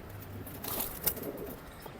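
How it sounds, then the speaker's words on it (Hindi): Kabuli pigeons with ringed legs at Karachi's Saddar Sunday pigeon market give soft, faint coos over a low background murmur, with a slight rustle midway. "पट्टी वाले कबूतर हैं"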